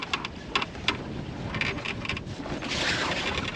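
Sailboat under full sail in the wind at an anchorage, with steady wind rush and water wash against the hull, a few soft knocks early on and a gust swelling toward the end.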